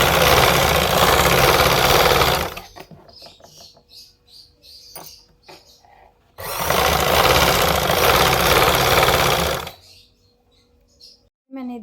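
Sewing machine stitches a frill onto a girl's frock in two long, loud, steady runs of rapid mechanical whirring. Between the runs come quieter pauses filled with clicks and cloth handling.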